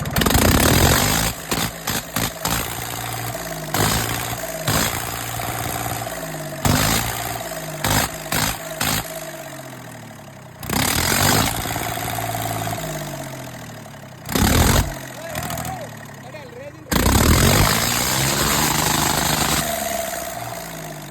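An engine being readied for the threshing yard idles in a low, steady throb, broken by repeated sharp revs of varying length, some short bursts in quick succession and a few longer sustained roars, loud and close.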